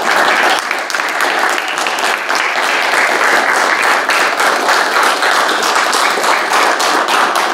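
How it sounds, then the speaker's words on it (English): Audience at a town council meeting applauding employees, a loud, steady burst of many hands clapping that continues evenly throughout without speech. "I like to give them a round of applause here tonight for the service that they do"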